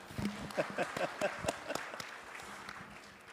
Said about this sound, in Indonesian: Aplaus untuk beliau Bapak Ibu.